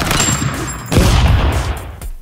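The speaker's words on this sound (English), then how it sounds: "Why did it make a gunshot sound when you punched him?" In the video game Stick Fight, a punch triggers a loud gunshot-like blast: a sharp burst of noisy crackle with a heavy booming low end that decays over about a second, following a stretch of busy game noise.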